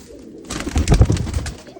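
Fulsara pigeons in a breeding loft give a short burst of throaty cooing that starts abruptly after a quiet moment, loud and close, then tapers off.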